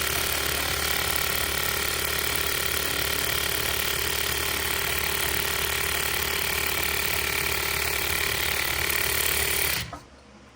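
A Merrow MG-2DNR-1 Pearl overlock sewing machine stitching, a dense, steady mechanical whir with rapid rhythmic ratcheting that runs continuously for about ten seconds, then stops abruptly.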